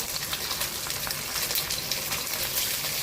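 Chicken wings pan-frying in hot oil over high heat, a close, steady crackling sizzle with scattered pops and no talking.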